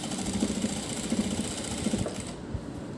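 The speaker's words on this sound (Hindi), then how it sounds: "इस तरह से हम सिलाई को पक्का करते हुए यहाँ पर हम सिलाई लगा देंगे।" An electric sewing machine stitches a boat neck design on fabric, a steady close whirring hum with a fast rhythmic stitching chatter running throughout, no talking.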